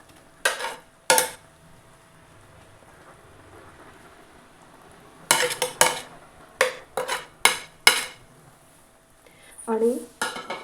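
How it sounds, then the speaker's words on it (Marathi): Fried eggs are added into a pot of egg biryani, making sharp close clatters of utensils against the pot in scattered bursts, with quiet gaps between them. "त्याच्यानंतर ही फ्राय केलेली अंडी टाकते."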